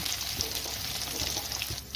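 Paneer fries in hot oil with a dense, even, close-up sizzle and crackle that holds steady throughout, and no voices are heard.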